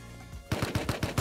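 Rapid automatic gunfire in the survival video game Rust lands headshots during a base fight: a quiet lead-in, then about six loud, evenly spaced shots in quick succession.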